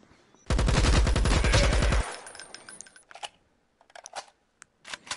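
A loud, rapid burst of automatic gunfire hits an enemy in a VR shooter and lasts about a second and a half. Quieter clicks and small scattered impacts follow.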